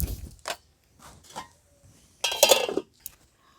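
A lid is set onto a pot of papaya boiling with salt, giving a few light metallic clinks and rattles, with one brighter clatter near the end, close and fairly quiet.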